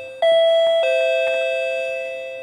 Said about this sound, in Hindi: ये बैटरी वाली डोरबेल है, ये ऐसे बज रही है।